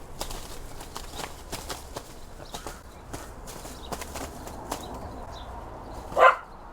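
Scattered light taps and clicks, then one sharp dog bark near the end, fairly close and louder than everything before it.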